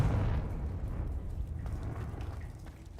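A Confringo fire spell explodes in the video game Hogwarts Legacy, a heavy, rumbling burst that starts loud and decays into a crackling, rain-like hiss over a few seconds.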